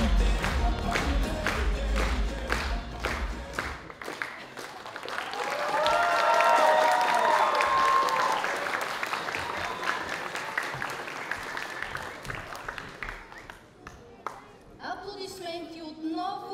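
Audience clapping and cheering at a cosplay stage during a game summit, sustained crowd applause with a swell in the middle, music fading at the start and a voice entering near the end.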